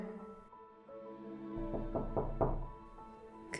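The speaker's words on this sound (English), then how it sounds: "I suddenly heard a knock on my door." Several soft knocks on a door, muffled and mid-distance, spaced unevenly over a quiet room hum, with a brief sharper tap at the end.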